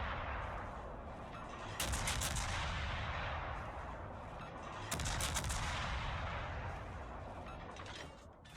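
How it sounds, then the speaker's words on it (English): Des Moines cruiser guns in World of Warships firing on a submarine, two heavy booming salvos a few seconds apart, each trailing off into a long rumbling decay. "Des Moines guns on a sub."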